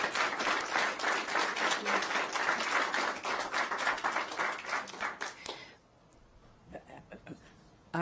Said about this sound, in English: If we can give everybody a round of applause